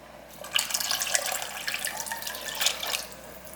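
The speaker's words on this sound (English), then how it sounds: "the final step is we're gonna add 2 cups of beef broth" Beef broth poured into a pot of taco soup, a steady liquid splash and trickle that swells and eases over a few seconds, close and alone with no talking.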